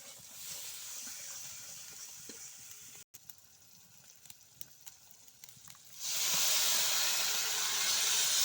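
Water poured onto hot spiced masala in a pan sets off a sharp, loud hiss that swells suddenly. It follows a quieter crackling sizzle with a few small clicks, close by.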